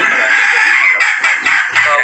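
Polish crested chickens on a poultry farm cluck and squawk in a dense, loud chorus close by, continuous throughout, with the birds' calls overlapping.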